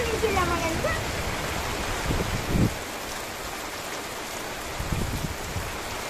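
Steady rain falls in a constant, even hiss of drops on surfaces, with a few brief knocks and faint voices in the background.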